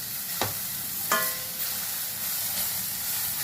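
Carrots frying in a pan for carrot rice, a soft continuous sizzle with two distinct stirring scrapes early on, then the quiet hiss carrying on alone.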